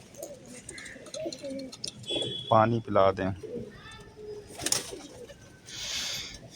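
Pigeons coo in a loft kept by a fancier, including a red male perched up high, a repeated throaty cooing heard close alongside other bird calls and wing sounds, with someone talking over them.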